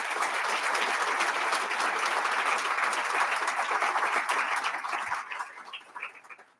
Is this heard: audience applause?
yes